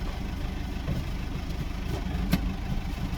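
A Massey Ferguson tractor engine runs at a steady, low rumbling idle heard from the cab, with a single brief clunk partway through.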